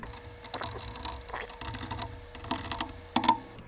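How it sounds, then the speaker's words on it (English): Screws being removed from the housing of a Dell 5524p network switch, giving a series of small metallic clicks and ratcheting scrapes at close range, irregular bursts with no talking. "Then we will remove 4 screws."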